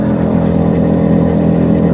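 A Keeway SCR 250V motorcycle fitted with an aftermarket Mavionic exhaust runs at high revs, giving a loud, steady, close engine drone that holds without a break.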